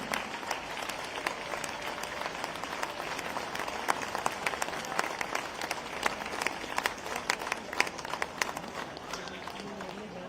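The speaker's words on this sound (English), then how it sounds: "A huge round of applause for the Eastern Naval Command Band." A concert audience applauds the Eastern Naval Command Band at an Indian Navy symphony concert for Independence Day, a long, steady rain of clapping from a large hall crowd with crisp individual claps up close.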